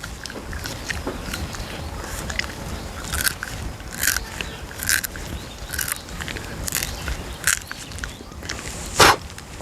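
Close, crunchy chewing and biting on the end of a woody miswak twig, with sharp crackling bites recurring roughly every second or so.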